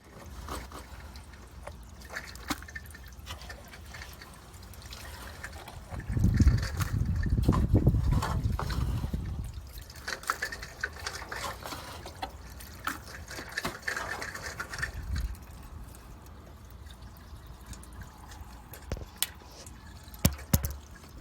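Water trickles and drips continuously from a rain gutter, swelling into a heavier gurgling flow midway before settling back to scattered drips.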